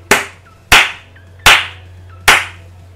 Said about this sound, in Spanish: Un aplauso a eSports.